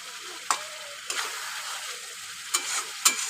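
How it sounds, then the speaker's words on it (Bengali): Shrimp and potato masala stir-fried in a pan: a faint sizzle under a few sharp scrapes and clinks of the spatula against the pan, spaced irregularly and nearby, with no voices. "দিয়ে আমরা ভালো করে কষিয়ে নেব একদম সহজভাবে।"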